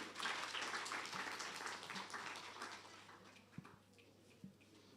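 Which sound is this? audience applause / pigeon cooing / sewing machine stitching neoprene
audience applause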